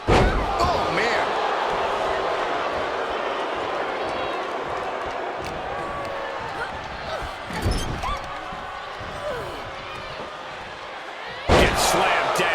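In WWE 2K25, a wrestler is slammed to the mat during a tag match, a heavy thud landing over continuous arena crowd noise, with commentary voices talking throughout and another loud impact near the end.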